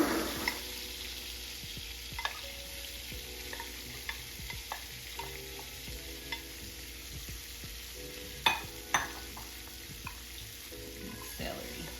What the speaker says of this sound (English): we are going to start sauteing the onions and celery